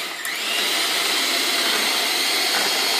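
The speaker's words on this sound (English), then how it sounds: "Get your hand mixer and you blend it until it's nice and fluffy white" An electric hand mixer whips egg whites for chile rellenos, a loud, continuous high-pitched motor whine that holds steady throughout, close and alone.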